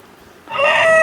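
An Aseel rooster at the Nallapadu chicken market crows once, loud and close, a sustained call that starts halfway through after a quiet stretch of faint background noise.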